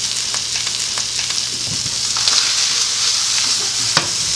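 A Delmonico steak pan-frying to build a crust gives a loud, steady sizzle that holds close and even throughout, with a few faint clicks and scrapes underneath.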